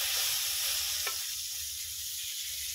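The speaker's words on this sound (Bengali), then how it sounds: "পটল ভাজা হচ্ছে।" Pointed gourd (potol) slices fry in a pan with a steady, moderately quiet sizzle and hiss that holds evenly throughout, with a soft low rumble underneath.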